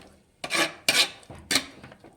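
A ground spice paste is stirred in a hot pan with a utensil, giving three distinct scraping, sizzling strokes in an uneven rhythm, close and fairly loud, with short quiet gaps between them.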